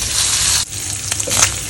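Bacon crisps in a pan for bacon-egg fried rice, giving a steady close sizzle with a brief dip partway through before the crackling hiss resumes.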